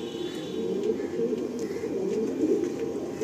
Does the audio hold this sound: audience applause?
no